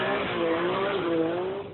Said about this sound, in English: It's time for a couple more runs at PIR's open race night.